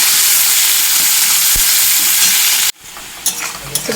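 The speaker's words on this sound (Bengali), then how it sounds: "পেঁয়াজগুলোকে লাল করে ভেজে নেব।" Sliced onions fry in a pan for a spicy Bengali egg curry, a loud steady sizzle that cuts off abruptly near the end, followed by a quieter, fainter crackle with light stirring clinks.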